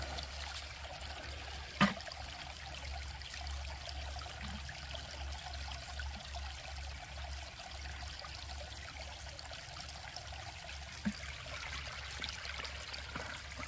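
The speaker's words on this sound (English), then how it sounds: "Nice relaxing sound of the water." Water flows quietly through a gold-prospecting sluice outdoors, a soft continuous trickle with a low steady rumble and a couple of faint clicks.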